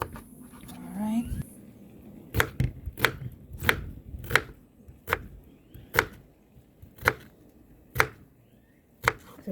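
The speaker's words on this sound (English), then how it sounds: "So we're just slicing up our onion." An onion is sliced with a knife on a cutting board, giving about a dozen crisp, evenly spaced chops up close, with a brief rustle and murmur of a voice at the start.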